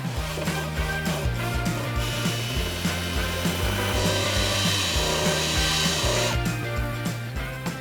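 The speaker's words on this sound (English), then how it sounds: "So easiest way to do that is with a drill or a wire brush." Drill-driven wire brush scrubbing loose rust off a metal surface, a continuous loud rasping grind with rhythmic pulsing, close and steady throughout.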